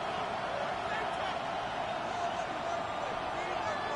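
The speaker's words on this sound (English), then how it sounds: "This crowd doing all they can." Football stadium crowd of Broncos fans on a third-and-goal play makes a loud, continuous roar, a steady wash of massed voices with no pauses.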